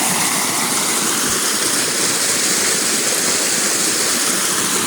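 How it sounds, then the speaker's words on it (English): A very full waterfall swollen by heavy rainstorms roars in a steady, loud, dense rush of water that holds unchanged throughout, with no voices. "I've never seen the waterfall this full."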